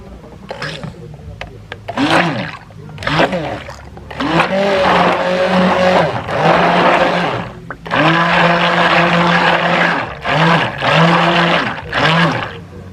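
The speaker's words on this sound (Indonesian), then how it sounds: "sekarang dengan stick blender ini kita bisa mengaduk dengan speed yang ringan saja dulu." A stick blender stirring a natural soap mixture at low speed, whirring in repeated bursts that rise and fall in pitch, with longer sustained runs in the middle, close and loud.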